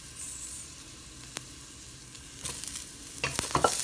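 Eggplant frying in a pan gives a soft, steady sizzle with occasional scraping stir sounds that grow louder and busier toward the end.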